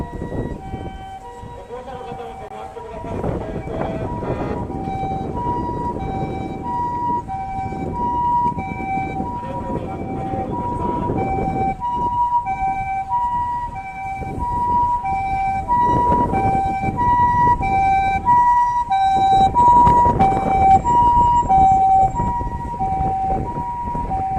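Ambulance siren wailing on a street in Yokohama's Chinatown, loud and close as it approaches, its repeating two-tone pattern holding over traffic rumble for most of the stretch.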